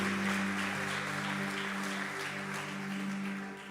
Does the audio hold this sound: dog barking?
no